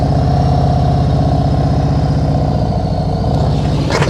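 A motorcycle engine idles close up, a loud steady low pulsing throb that holds evenly throughout, with a brief higher noise near the end and no talking.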